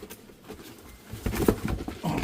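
Saddle pigeon kept as a pet, cooing and shuffling inside a box, with soft rustling and low coos growing louder toward the end; no speech.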